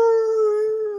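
A person imitates a dog howl with a single loud, steady, tonal wail about a second long, held close to the microphone with no other sounds.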